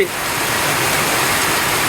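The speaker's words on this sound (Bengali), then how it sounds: "কি সুন্দর বৃষ্টি" Heavy rain pours steadily in a flood-prone wetland area, a loud, dense, continuous hiss with no break.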